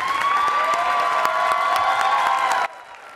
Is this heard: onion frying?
no